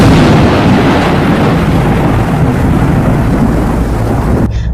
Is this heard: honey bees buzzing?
no